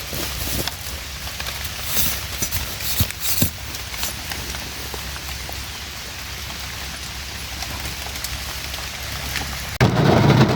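Rain pours steadily outdoors in Thailand, a dense continuous hiss of drops pattering on surfaces, with a few sharper splashes and a louder burst near the end.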